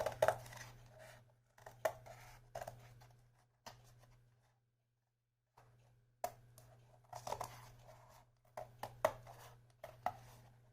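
Cardboard being cut to trim the extra base of a pen stand built from paper rolls, heard as a series of short crisp cuts and scrapes in bursts with brief pauses, near and fairly quiet over a steady low hum.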